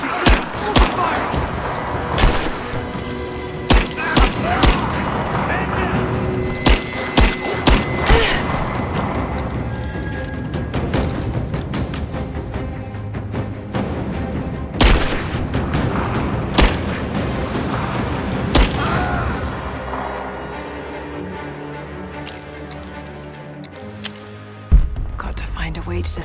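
Heavy gunfire and booming blasts from the video game Rise of the Tomb Raider, with repeated loud shots and explosions over a dense, continuous battle din, and shouting voices mixed in.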